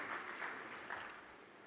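Audience applause for a keynote speaker at a summit, a steady wash of clapping from a hall, fairly distant and low in level, sustained without pause.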